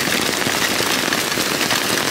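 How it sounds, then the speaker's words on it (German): Heavy rain pours onto a camp tarp in a forest during a thunderstorm, a dense, loud, steady hiss of drops with no pauses. "Und dieser Regen, der spritzt hierher."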